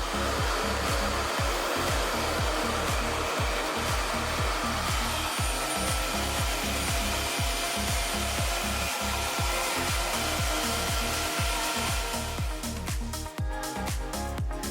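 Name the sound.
blow dryer drying hair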